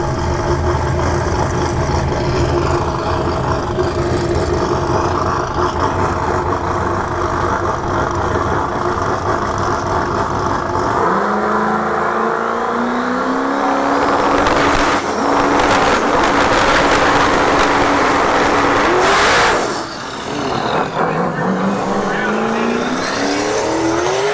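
A drag race car at Battle in the Bay 6, Bradenton Motorsports Park, roars down the strip, its engine note climbing steadily as it accelerates and then dropping off, loud and continuous beneath a commentator's talk.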